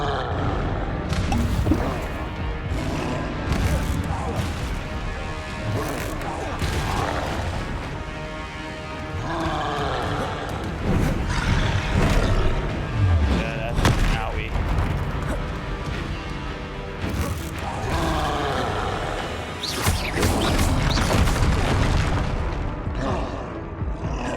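Hogwarts Legacy spellcasting, including Accio, Levioso, Confringo and Expelliarmus, fills the stretch with dense game effects: repeated booms, crashes, whooshes and thwacks, loud and overlapping, with a few quieter gaps between bursts.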